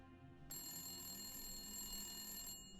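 Telephone ringing in the video game The Long Dark, a sustained electronic ring that starts abruptly, holds steadily for about two seconds, then cuts off. The level is faint and there is no talking.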